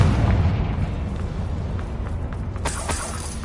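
A Confringo spell explodes in the video game Hogwarts Legacy: a rumbling, booming blast with scattered crackling bursts, the low roar carrying through the whole moment.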